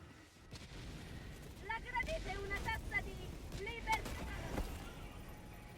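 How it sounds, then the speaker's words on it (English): A walking barrage artillery strike lands on an outpost in Helldivers 2, sending a string of deep booming impacts rolling through the game's battle noise, with louder hits spaced a second or so apart. "And walking barrage on the outpost while I am doing this SAM site."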